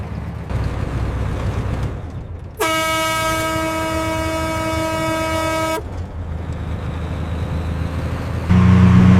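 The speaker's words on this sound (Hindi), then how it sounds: "हॉर्न दो, शायद बातों में मशगूल होंगे।" A truck's air horn blasts once, long and loud, for about three seconds on a road where police block the way, over the steady drone of the idling engine.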